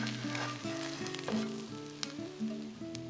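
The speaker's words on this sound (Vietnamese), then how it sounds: "Lúc này các bạn có thể đổ thêm dầu để chiên cho phần cá giòn hơn" Fish cakes fry in oil in a pan, giving a steady close sizzle with bright crackling pops, while a tonal background melody plays underneath throughout.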